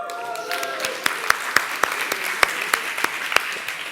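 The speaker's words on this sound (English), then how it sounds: "clapping slightly muted there by the people who are still hungover" Sparse, muted applause from a conference audience the morning after a social evening: a thin scatter of separate claps, fairly near, with soft background murmur and no clear speech.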